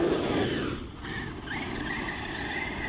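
Team Magic E6 J-Star RC car running fast on a 4S battery: a continuous high-pitched electric motor whine with rising pitch sweeps as it accelerates, steady and fairly close, with no talking.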